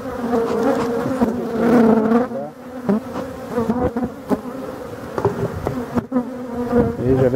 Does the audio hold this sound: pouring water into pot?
no